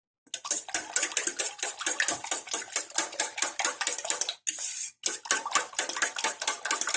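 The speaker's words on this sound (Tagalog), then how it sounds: "Tapos batihin natin." Eggs are beaten in a bowl for steamed eggs, a fast, steady clatter of a utensil striking the bowl's sides in a rapid rhythm, close and loud, with one brief pause partway through.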